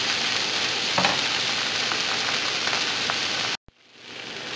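Tomatoes sizzle in a pan while cooking down for ginisang sayote: a loud, dense, continuous frying hiss with a few pops. It cuts out abruptly near the end, then quickly swells back.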